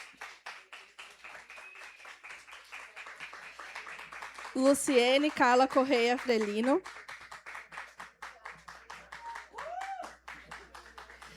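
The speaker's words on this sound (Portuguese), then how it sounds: "Palmas, por favor." Rhythmic clapping from an audience at a literary festival panel, sharp regular claps running throughout while an announcer's amplified voice speaks briefly partway through.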